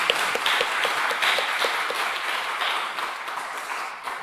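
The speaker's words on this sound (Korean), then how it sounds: "하나님께 영광의 박수 하겠습니다." Applause in a church service rises from a congregation, a steady patter of many hands clapping at moderate distance for several seconds, fading slightly toward the end.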